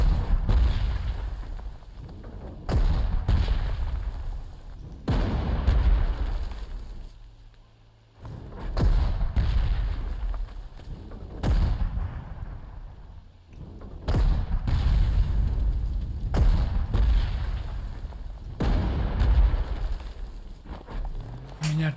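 Artillery fire in the Panzer Corps 2 strategy video game, a long series of heavy booms and thuds repeating every few seconds, loud and rumbling with brief quieter gaps between volleys.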